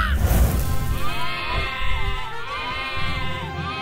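Sheep bleats in a toy pretend-play scene, a wavering, drawn-out bleat sounding close and fairly loud for several seconds, with a sharper burst at the start and no talk.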